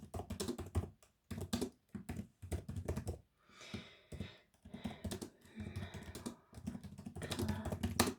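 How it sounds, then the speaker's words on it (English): Keyboard typing on a computer at a hotel reception desk, soft close-up clicks in quick bursts separated by short pauses, continuing steadily through the quiet room. "Let me just type that in."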